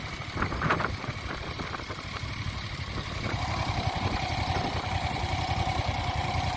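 A 1970 Moto Guzzi Ambassador motorcycle engine pulls along steadily in first gear, a low continuous rumble that thickens slightly midway and holds at a moderate, close level throughout.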